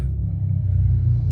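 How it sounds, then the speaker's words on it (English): A steady low engine rumble from a passing motorcycle, heavy in the bass, holding even through the short stretch with no voices. "I don't know if you can hear that, but that's a motorcycle."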